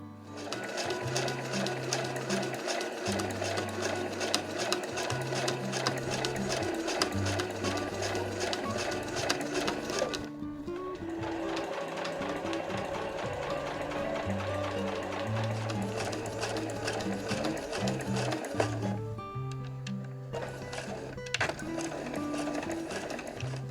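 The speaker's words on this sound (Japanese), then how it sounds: "端から端までをミシンの押さえを使って縫っていきます。" A sewing machine stitches fabric for a fur tote bag, running in a loud, fast, steady mechanical rattle for long stretches with a few brief pauses.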